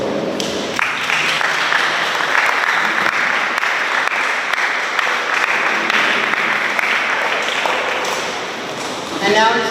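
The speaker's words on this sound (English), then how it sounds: "Let's give him a big round of applause." Loud, sustained applause from a school audience at a high school Jeopardy competition in Pohnpei, steady dense clapping filling nearly ten seconds, with some voices mixed in.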